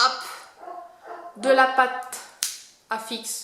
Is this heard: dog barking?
yes